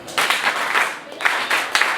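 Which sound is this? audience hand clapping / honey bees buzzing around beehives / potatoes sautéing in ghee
audience hand clapping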